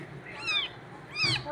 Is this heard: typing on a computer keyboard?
no